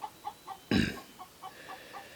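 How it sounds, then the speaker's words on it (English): A chicken clucks close by in a quick, regular series of short soft clucks, broken once by a louder, rougher squawk partway through, with no talking. "don't mind the chicken"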